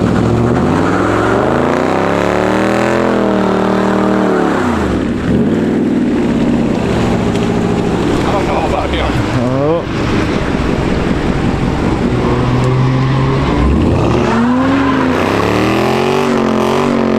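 Car wheelspin on a wet road as the car peels one wheel and slides in the rain, with an engine revving up and down in loud, rising and falling sweeps over steady wet road and wind noise.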